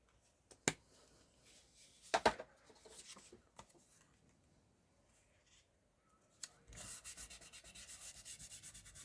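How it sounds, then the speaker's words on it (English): Hand rubbing glued paper down firmly on a card-making project: a few dry scrapes and taps, then a steady run of rhythmic rubbing strokes, close and soft. "Giving it a good rub down."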